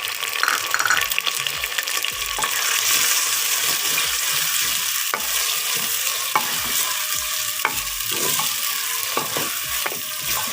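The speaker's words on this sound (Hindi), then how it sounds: "थोड़ी देर के लिए हम इसको इसी तरह भूनते रहेंगे" Mixed vegetables with tomatoes and green chilies frying in a pan over medium heat, a steady close sizzle broken by frequent clinks and scrapes of a spoon stirring against the metal.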